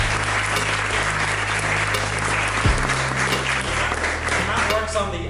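Audience at a university tech series event applauding a guest, a steady, full wash of clapping throughout, with a low hum beneath and a voice coming in near the end.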